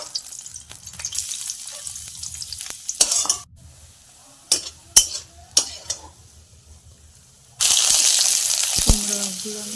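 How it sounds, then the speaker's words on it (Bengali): Chilli, garlic and onion frying in a wok, a steady loud sizzle that starts and stops with bursts of stirring and sharp utensil scrapes against the pan, with a strong sizzle rising again near the end. "কড়াইয়ে আমি মরিচ, রসুন আর পেঁয়াজ এগুলোকে ভেজে নেব সানার জন্য।"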